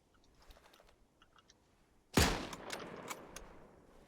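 A single sharp gunshot in the video game Antistasi Ultimate, a loud close crack at the midpoint that rings out and decays over the following second, with faint clicks and small noises before it.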